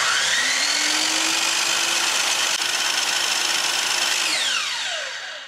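A miter saw motor runs at a steady high whine during a speed check, holding constant pitch with bright harmonics, then begins winding down near the end.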